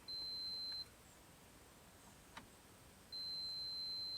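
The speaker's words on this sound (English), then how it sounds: "So we've got all of the speeds beeping." A caravan rear blower motor switch being tested gives a steady electronic beep, faint and high-pitched, sounding once at the start and again toward the end, with a quiet tick between and no talk.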